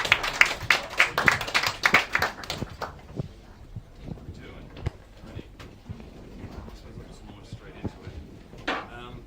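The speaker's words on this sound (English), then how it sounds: "Give him a round of applause." Clapping from an audience at a cocktail competition heat in New South Wales: a loud burst of claps at first that thins out after a few seconds into scattered knocks and rustles, with a brief flare near the end.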